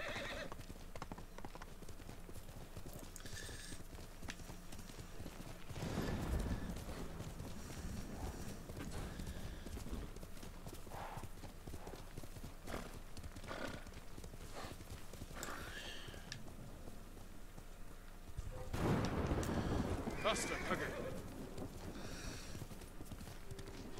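Hooves clip-clop steadily as the horse Kage is ridden across open ground in Ghost of Tsushima, with a couple of louder snorting or whinnying swells over a constant game ambience.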